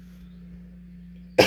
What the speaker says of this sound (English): Of course, I'm coughing on my first COVID-19 coronavirus video.